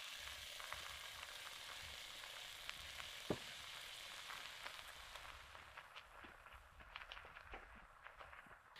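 Sofrito for borscht fries in a pot over a campfire, giving a faint, steady sizzle scattered with small pops and crackles and occasional sharper ticks.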